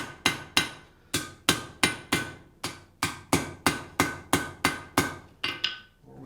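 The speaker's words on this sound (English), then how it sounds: "I'm just hitting it just hard enough to do what I wanted to do without it jumping out of the tongs" A hammer forges a horseshoe held in tongs on an anvil, turning it into a door handle: a brisk run of about fifteen sharp, ringing metal blows in a steady rhythm, close and loud, with the last few softer.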